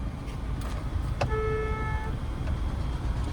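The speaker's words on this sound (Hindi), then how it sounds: "अब लॉन्ग हॉर्न प्रेस करो, लॉन्ग यहाँ से बजेगा" A car horn gives one sustained press of about a second during a beginner driving lesson on a road with an oncoming tractor, standing out clearly over steady engine and road rumble inside the car.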